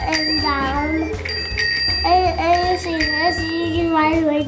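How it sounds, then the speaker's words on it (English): Bell on a child's scooter rung repeatedly in quick bright dings, close and clear, mixed with a child and an adult talking. "Show them how the bell works."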